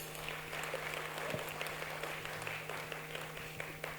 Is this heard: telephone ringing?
no